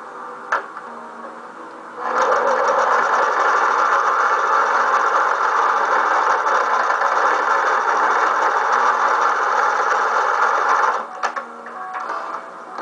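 A sewing machine stitches a zigzag seam through fabric, running loud and steady for about nine seconds after a short start, with the needle's fast mechanical chatter, then stopping.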